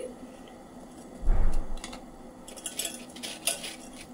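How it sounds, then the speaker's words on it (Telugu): Fried bread pieces drop into boiling sugar syrup in a pan for bread halwa, giving a short thud and clatter of utensils, then light scraping and faint clinks at close range with no talk. "ఇలా బాయిల్ అవుతున్న షుగర్ సిరప్లో మనం ఫ్రై చేసి పెట్టుకున్న బ్రెడ్ పీసెస్ వేసుకోండి."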